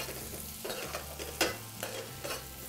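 Spring onion sautéing in butter in a pan for butter garlic prawns, a continuous close sizzle with several swishing stirring strokes and one sharper scrape in the middle, with no talk.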